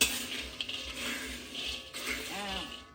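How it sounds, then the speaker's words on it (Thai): Krabok nuts being dry-roasted and stirred in a pan on a narrow stove, with rattling, scraping clatter of nuts and utensil against metal, close up, while someone talks over it. "คั่วไปเรื่อยๆ เพราะเตาของเราแคบนะคะ"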